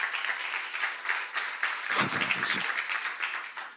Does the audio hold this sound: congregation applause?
yes